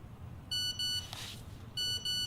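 A new mobile phone sounds two bursts of rapid electronic beeping, each a pair of quick high tones, separated by a brief pause and a faint rustle, fairly close and clear over low background hum.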